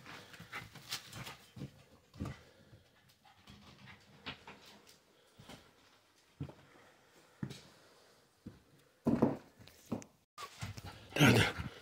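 A hunting dog at a den hunt, panting and snuffling close by with scattered short whimpers and a few louder barks or yelps toward the end, faint human sounds in between.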